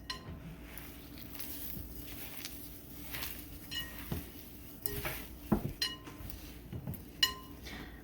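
Meatball mixture worked by hand or spoon in a bowl: quiet, irregular squishes and soft knocks with occasional clinks against the bowl, close and fairly faint, with no talking.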